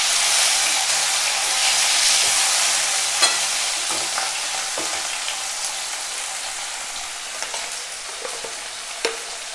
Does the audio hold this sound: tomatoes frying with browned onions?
yes